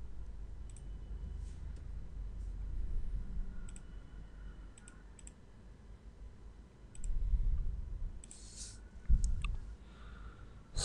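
Computer mouse buttons clicking at a desk during CAD work, scattered sharp ticks spaced irregularly, some in quick pairs, close but faint over a low room hum.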